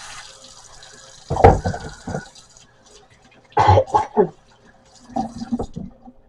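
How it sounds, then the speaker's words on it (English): Hands are washed under a running kitchen tap, the water splashing in three separate bursts with quiet stretches between them. "And wash those beefy hands."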